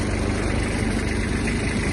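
A Kubota GB-16 Japanese mini tractor engine idling in neutral with the tiller lowered, a steady, close, loud diesel rumble with an even low throb throughout and no talk.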